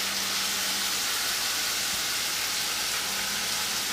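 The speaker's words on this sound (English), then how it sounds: "we're gonna take the turkey bacon, put it in there, let that cook up" Turkey bacon sizzles in a hot pot for lentil soup, giving a steady, even hiss of frying with no pauses or voices over it.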